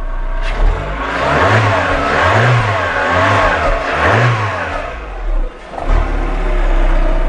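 A PSA 1.6 16V TU5JP4 car engine runs close up after a timing belt replacement, revving up and settling back several times in a steady rise-and-fall rhythm with no one talking.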